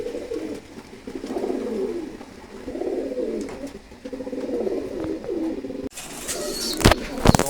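Several pigeons coo in repeated low, rolling phrases close by, followed by a burst of wing flapping and rustling at the end.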